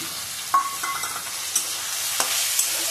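Fried rice being stirred in a pan with sugar and then peas, a low sizzle under several distinct scrapes and clacks of a spatula against the pan, close and fairly quiet, no speech.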